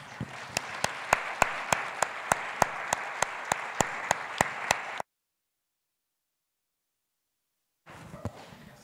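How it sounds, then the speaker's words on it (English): Audience at a healthcare conference plenary session clapping in sharp, evenly spaced beats, about fifteen crisp claps over five seconds, then sudden silence before a brief burst of noise returns. "I would like to repeat this big applause for this final plenary session"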